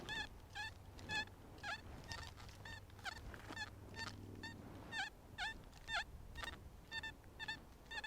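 A metal detector emits a series of short, warbling tones at a steady, repeated rhythm while sweeping over a large copper pot of coins. The signal is faint and sounds over a low background rumble.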